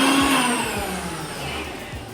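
A mixer grinder whirs steadily as it briefly crushes washed, dried curry leaves for rice flour dough, with a loud continuous motor drone and rattling blades.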